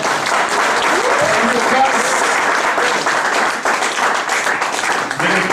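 Church congregation applauding at a worship service, dense sustained clapping from a large crowd with voices calling out beneath it, loud and continuous throughout.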